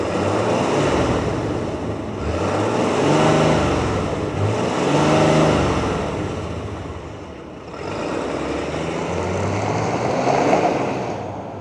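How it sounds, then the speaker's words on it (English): A 2025 Ram 2500 Laramie Sport 4x4 diesel truck engine rumbling and revving in repeated loud surges, easing off briefly and then building again. "let's fire this diesel up and hear if it makes all those familiar sounds"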